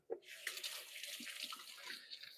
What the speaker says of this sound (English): Let me give my hands a quick rinse now.